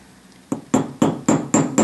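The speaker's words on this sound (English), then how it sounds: "here's our riveting hammer. I'm going to start with the rounded side." A riveting hammer, striking with its rounded side, pounds a metal rivet in five loud, evenly spaced blows after a brief quiet moment.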